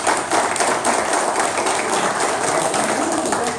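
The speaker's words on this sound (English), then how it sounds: "a round of applause for Ralph" A room of listeners applauds a man named Ralph as he is introduced to speak about a round-the-world powerboat race at a business meetup in Daytona Beach, the clapping steady and dense throughout.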